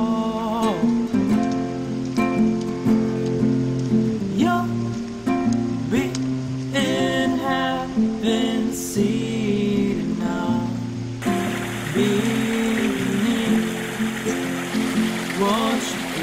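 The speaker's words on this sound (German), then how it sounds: "fließt das Wasser hier wirklich ganz schön schnell runter" Fast water rushes steeply downhill beside a Harz hiking trail, a continuous close splashing wash with a German voice speaking over it and a few knocks and clatters.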